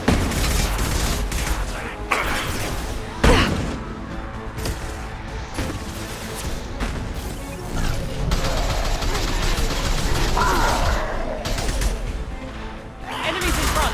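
Bursts of gunfire and rapid shots in the sci-fi shooter Mass Effect 2, loud and dense with crashes and booms throughout, mixed with game sounds.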